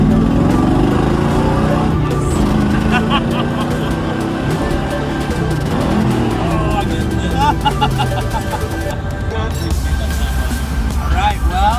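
A barn-find vintage hot rod engine runs steadily on a country-road test drive, a loud continuous drone with rising and falling tones as it changes speed, with voices talking over it throughout.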